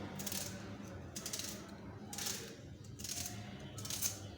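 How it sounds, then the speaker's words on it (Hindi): A knife finely chops onions and potatoes on a board, producing four or five short clusters of crisp clicking cuts, close and fairly quiet, with no voice heard. "अब हम इसको काट लेंगे। ऐसे बारीक बारीक काट लेंगे, ऐसे काटेंगे।"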